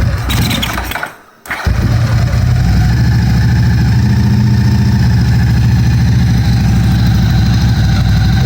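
A Ducati 750SS fitted with Keihin FCR 39 carburetors fires up after a brief near-silent gap, then settles into a loud, steady, close-up idle with an even, lumpy beat.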